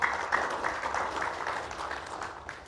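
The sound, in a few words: audience applause welcoming a guest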